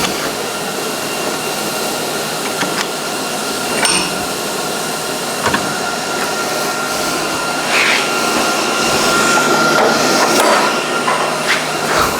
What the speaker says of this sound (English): I will grind this up